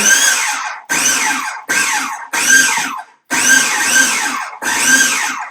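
A food processor pulses a falafel mixture in bursts of about a second, six loud whirring runs each cut by a brief pause, close up with no talk.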